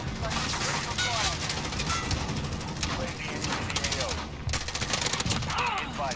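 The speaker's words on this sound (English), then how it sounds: "Dude, I just got shot through the wall." Rapid automatic gunfire fills the Modern Warfare match, dense overlapping bursts of shots with sharp cracks throughout, loud and close, mixed with other game sounds.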